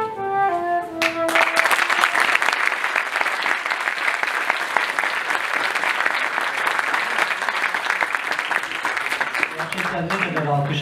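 Audience in a school hall claps through a Teachers' Day program, steady loud applause lasting about ten seconds after a brief tonal note at the start.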